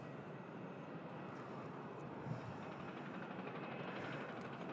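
An Air Transat A321neo at Manchester Airport gives a faint, distant, steady jet roar that holds evenly throughout with no other clear sounds.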